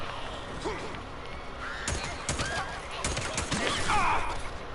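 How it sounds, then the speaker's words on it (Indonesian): Gunfire from the Days Gone video game, a rapid fusillade of shots and thuds overlapping dense in-game noise, fairly loud and continuous throughout. "Oh ini Ricky, ngapain lu tembak?"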